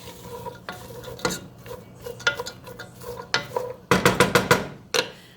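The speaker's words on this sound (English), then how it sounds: "So you can hear that start to sizzle" Minestrone vegetables hitting a hot pot on the stove, with bursts of sizzling and frying mixed with sharp clatters of stirring and a utensil knocking the pan, irregular and close, growing busier toward the end.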